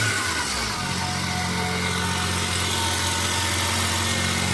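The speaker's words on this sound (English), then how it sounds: "The engine sounds kind of suspicious to me." A car engine idles steadily at a USS Osaka used-car auction, a continuous low mechanical hum with a slightly rough, uneven tone that changes a little near the start, with no talk over it.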